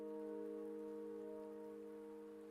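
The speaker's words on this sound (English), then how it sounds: "Don't worry, the rain won't last much longer." Faint, steady rain hisses in the Wuthering Waves video game, with soft sustained musical tones held underneath for the whole stretch.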